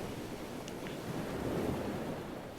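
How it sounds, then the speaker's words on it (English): Ocean surf and wind make a steady, soft wash of broadband noise, with waves swelling slightly in the middle. The sound stays faint and continuous, and no one speaks. "You hear the sound of the trees, the wind, the ocean"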